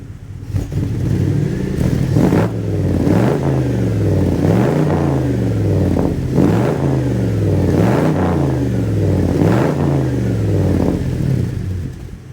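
A V8 engine running on ethanol-blended gasoline with freshly adjusted timing revs up and settles again and again in a regular cycle about every second. It is loud and close, with no talk.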